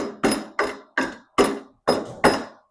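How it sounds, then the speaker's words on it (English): A chisel struck six times into a piece of wood held in a WORKPRO bench vise, sharp loud close knocks spaced at roughly even intervals, each ringing briefly before the next blow, with no talk. "I'm going to grab a chisel. And so you can see here, if I hit it,"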